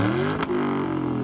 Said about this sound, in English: Give it a little rev, Nick.